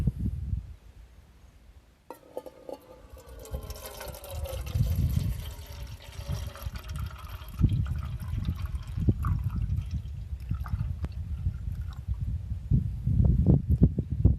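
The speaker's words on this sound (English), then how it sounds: "I'm going to add some water." Water pours and splashes into a small paint can, gurgling and sloshing unevenly as it fills, with a few clanks in between; nobody speaks.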